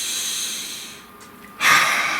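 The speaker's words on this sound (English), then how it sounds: "Nice deep breath." One long, deep breath drawn close to the mic during a quiet tarot reading, rising to a loud breathy rush near the end after a hushed lull.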